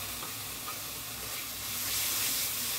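Ginger, garlic and green chili paste fries in a pan with browned onion, a steady loud sizzle throughout that swells slightly toward the end, with no voices.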